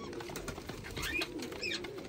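A pair of Shahjahanpuri green pigeons cooing softly at close range over low background noise, with a few brief higher calls mixed in.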